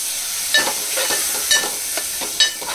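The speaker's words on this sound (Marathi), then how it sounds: "त्यामध्ये आपण वाटण घालूया, तो सुद्धा एकजीव करून घेऊ" A ground masala paste is stirred into spices frying in oil in a pan, giving a steady close sizzle broken by several scraping stirring strokes.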